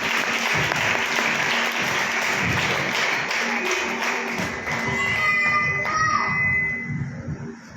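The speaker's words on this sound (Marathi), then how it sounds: "जोरदार टाळ्या वाजवा आपण देण्यासाठी." A church congregation at a Christian worship service claps in loud, sustained applause, the dense crackle of many hands tapering off toward the end as scattered voices and tones come in.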